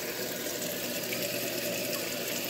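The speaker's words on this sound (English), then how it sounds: "But let's see how it does with the rinsing." A 1965 Lady Kenmore washing machine on its rinse cycle, giving a steady, even rush of running water filling the tub, continuous and moderately quiet throughout.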